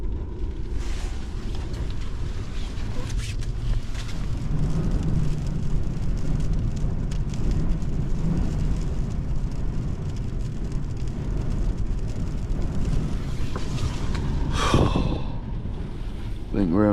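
Wind of around 60 mph buffets a truck during a camping night, making a continuous loud roaring rumble with gusty swells, and a brief sharp rattling noise near the end.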